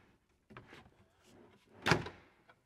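An STV racking unit slides into a cabinet on metal drawer slides, giving soft rolling and scraping sounds that end in a louder, brief clunk as it seats, then a small tap.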